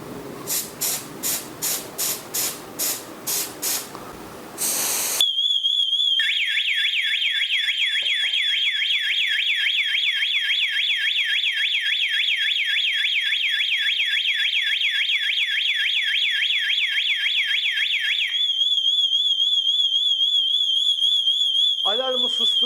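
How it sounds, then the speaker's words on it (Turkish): A few rapid beeps, then a loud, piercing smoke detector alarm tone sounds continuously during a test, pulsing for several seconds before cutting off. "Hemen duman dedektörümüzün şu şekilde testini yapalım"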